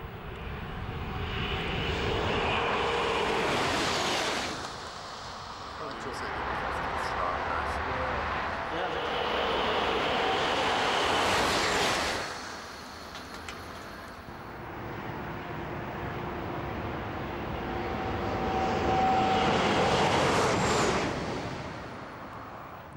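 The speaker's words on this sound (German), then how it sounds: "Der Zug fliegt über die Gleise." An ICE high-speed train running at over 330 km/h gives a loud, continuous roaring rush that swells in three broad surges and eases between them.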